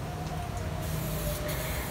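A spray gun lays down thin coats of clear coat over Xirallic paint, giving a steady, close, continuous hiss with no talking.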